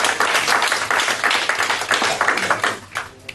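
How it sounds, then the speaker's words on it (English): A short burst of audience clapping at a live comedy show, close and lively, with individual claps audible, tapering off after about three seconds. "give the show a round of applause"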